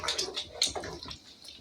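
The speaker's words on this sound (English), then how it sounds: "let's give this a stir" Chili being stirred in a pot, soft wet scraping and sloshing at close range, brief and fairly quiet.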